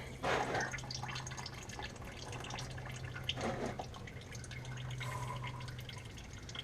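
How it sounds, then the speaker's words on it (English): Engine oil from a 2006 Jeep Grand Cherokee WK drips into a drain pan, a few soft, close, irregular liquid plops over a steady low background hum. "I spilled a couple drops. It's going in the drain pan."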